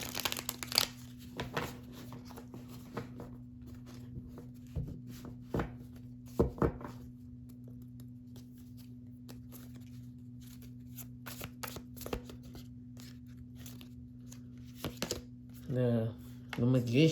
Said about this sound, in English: Let me just get us another shuffle there